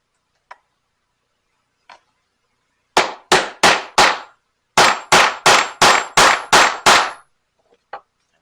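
Hammer blows set a snap on a thick leather holster strap resting on an anvil: two light taps, then a run of four sharp metallic strikes, a short pause and six more in steady rhythm, loud and close.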